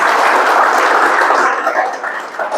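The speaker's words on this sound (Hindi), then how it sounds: "जोरदार तालियां हो जाएं सब" A large audience at a talk claps loudly and densely for a few seconds, the applause thinning slightly as it fades.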